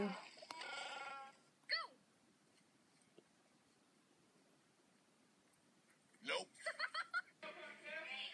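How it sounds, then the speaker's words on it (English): A goat bleats in short wavering bursts, first near the start and then in a louder cluster toward the end, with a quiet stretch in between. "That's a goat."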